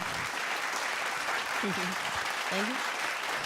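Audience applause for a singer on a stage show, steady clapping throughout at moderate level, with a voice speaking briefly over it near the middle.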